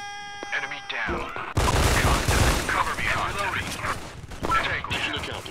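Rapid video-game gunfire bursts in a combat mission, loud and dense, with continuous volleys after a sharp onset and voices calling out over the shooting.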